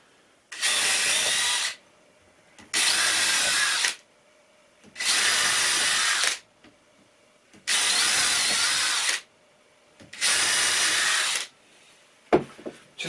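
A power drill drives screws into pallet wood while a herringbone coffee table is built, five loud whirring bursts of about a second and a half each separated by short pauses, close up with no talk.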